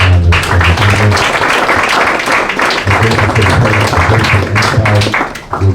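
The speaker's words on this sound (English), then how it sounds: "let's give a round of applause for our panelists." An audience at an Omega Psi Phi fraternity Achievement Week gathering gives a loud, sustained round of applause for panelists. The dense clapping runs steadily throughout, with a low hum beneath it.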